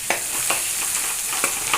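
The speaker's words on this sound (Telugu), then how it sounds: "పచ్చిమిర్చి, వెల్లుల్లి మొత్తం ఫ్రై అయిపోయింది." Green chillies, garlic and onions fry in oil for paneer masala, with a constant bright sizzle broken by several sharp scrapes and clinks of a spoon stirring the pan, close and clear.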